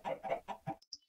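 Four quick, evenly spaced clucks from a Minecraft chicken, short and close, followed by a brief quiet gap with faint chirpy blips.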